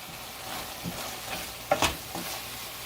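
A spoon stirring a pan of keema mixture seasoned with coriander and cumin, giving soft scraping strokes over a low frying hiss, with a couple of sharper clinks of metal in the middle.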